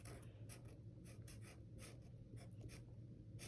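Soft scratching strokes of a pencil on paper, a quick irregular series of short scribbles close to the ear over a low steady hum, with no talk.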